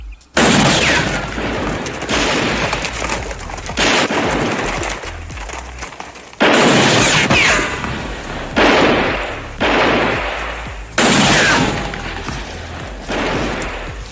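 Heavy gunfire in a classic western TV episode: loud, dense volleys of repeated shots come in long sustained bursts, with brief gaps between them and no clear talk.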